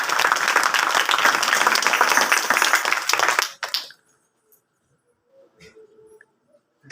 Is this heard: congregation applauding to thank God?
yes